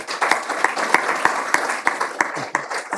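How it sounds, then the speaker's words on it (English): Applause from a small audience at an astronomy society meeting, steady loose hand clapping with individual claps distinct, close and moderately loud, lasting throughout. "we owe him a large round of applause"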